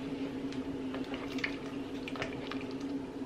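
Coconut milk poured into a pot of vegan pumpkin soup, a soft liquid gurgle and splash with small drips and bubbling, close and quiet over a steady background hum.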